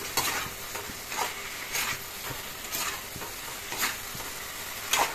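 Small fish pieces fry in a pan, a continuous close sizzle broken by regular scraping stirs about once a second, moderately quiet with no talking.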